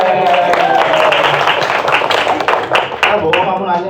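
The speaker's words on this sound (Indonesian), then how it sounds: "Tepuk tangan buat Safety." Crowd applause at a public speaking seminar, dense and loud throughout with scattered sharper claps, overlapping a voice talking in the background.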